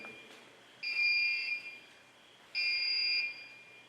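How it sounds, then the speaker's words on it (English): Two long electronic beeps from an ultrasonic motion detector, each lasting about half a second with a steady high pitch, repeating after a short gap over a quiet background. "The beeping you're hearing is a motion detector."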